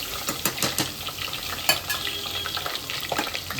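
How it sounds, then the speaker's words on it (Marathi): Cumin, green chilli and garlic hit hot oil for a tempering in a Konkani-style river crab curry, giving a loud, steady sizzle and crackle with a few sharper spits and stirring scrapes, and no voices. "फोडणी देते"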